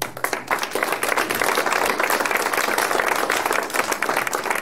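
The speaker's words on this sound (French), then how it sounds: "Je vais vous demander d'applaudir Nicolas," An audience at a UWC France conference claps for three former students, loud, close, sustained applause with individual hand claps standing out in a dense, steady patter.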